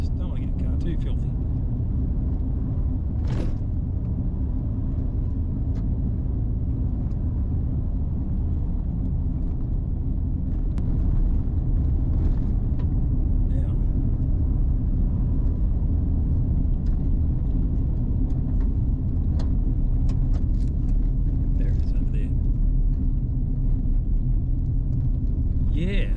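Steady low road rumble from a car driving on a rain-wet road, continuous and fairly loud throughout, with someone talking over it.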